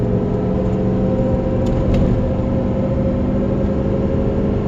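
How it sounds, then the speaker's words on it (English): A truck towing a Reese Goosebox gooseneck trailer accelerates onto an expressway, giving a steady, loud low rumble of engine and road noise with no talking. "we are accelerating to get onto the expressway"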